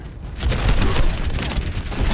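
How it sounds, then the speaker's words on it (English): Junkrat lobs grenades during an Overwatch match, and the explosions roll together into a dense, loud, booming barrage that rumbles without a break. "Shoot grenades in there."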